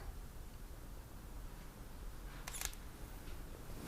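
Sony camera with a 100mm STF lens, handheld, firing its shutter in a tight burst of sharp mechanical clicks near the middle, over a steady quiet room hiss.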